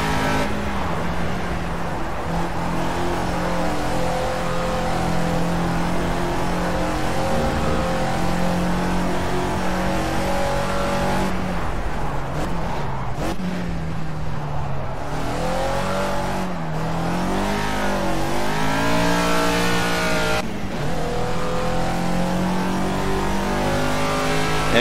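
Caterham Super Seven race car engine at Snetterton in the Project CARS racing game, a loud continuous rasping drone held at high revs, with pitch dips and climbs through gear changes and braking around 12, 16 and 20 seconds.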